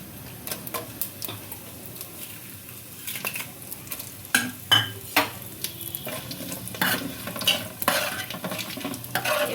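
Whole spices and bay leaves fry in hot oil in a pan, with a soft sizzle underneath while a spoon scrapes and taps against the pan in irregular close stirring strokes.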